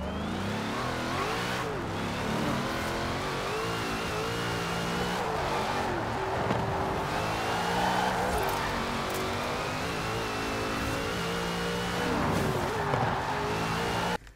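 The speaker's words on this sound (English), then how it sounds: "I just want you to have a listen to the Koenigsegg, because I don't know what it is about this CCX," Koenigsegg CCX engine in Forza Horizon 4, a loud continuous roar with repeated revving and upshifts over about fourteen seconds, close and without talk.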